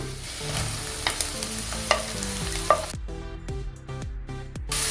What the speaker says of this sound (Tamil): பச்சை மிளகாய், எல்லாம் போட்டு கொஞ்சம் நல்லா அந்த பச்சை வாசம் போகிற வரைக்கும் வதக்கணும். வெங்காயத்தை போட்டுக்கலாம்.